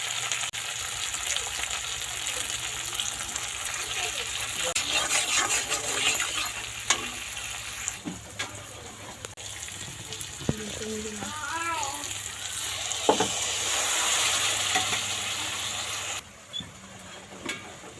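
Egg curry masala sautéing in a pan, a continuous bright sizzle with scraping stirs and occasional clinks, easing off near the end.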